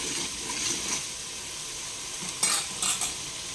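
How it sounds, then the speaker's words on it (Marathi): Curry leaves fry in spiced oil for a Solapuri katachi amti, a steady moderate sizzle with a few louder crackling spurts and light utensil stirring near the end. "आणि ह्या स्टेजला मी घालणार आहे कढीपत्ता, कारण कढीपत्ता पण तळला गेला पाहिजे"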